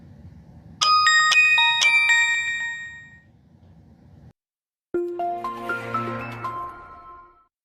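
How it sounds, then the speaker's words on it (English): Two short electronic chime melodies ring out one after another from a Samsung Gear 2 smartwatch, bright and clear like a device alert, each ringing out and fading with a brief silence between. "we had a special watch sound on here"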